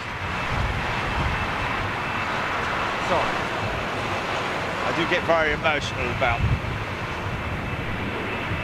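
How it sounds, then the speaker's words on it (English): Jet aircraft engines roar steadily at London Heathrow airport, a broad sustained whine and rumble while someone talks over it. "A lot of people would call this noise pollution with these engines"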